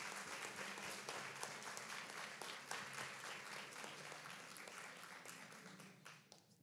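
An audience at a public speaking contest final claps loudly for a student candidate, a dense wash of applause with scattered sharp claps that thins out near the end.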